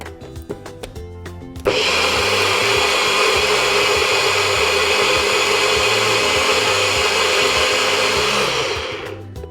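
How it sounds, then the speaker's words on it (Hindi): An electric grinder whirs loudly and steadily as it blends a smoothie, a dense high-pitched motor roar that starts abruptly after a few seconds of quiet kitchen sounds, holds constant, then tapers off at the end. "और अब मैं इसे ग्राइंड कर लेती हूँ"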